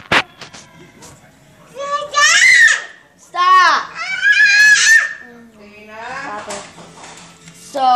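Children shrieking and squealing loudly in a series of high-pitched bursts with giggles, close by, mixed with child chatter.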